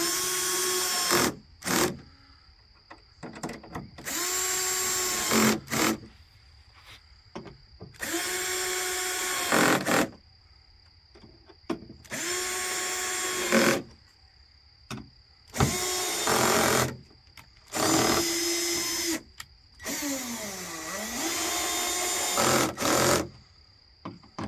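A clutch-equipped power drill whirs in repeated short bursts, each spinning up and stopping as a screw drives into a Jeep Gladiator tailgate panel, with pauses between runs.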